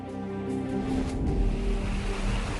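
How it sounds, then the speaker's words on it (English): The Ertosh river flowing past its village banks, a steady broadband rush of moving water close by with a continuous low rumble and no voices. "This is the Ertosh river."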